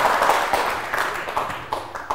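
Scattered applause for a contestant at a student quiz final, uneven clusters of hand claps rising and falling over a couple of seconds.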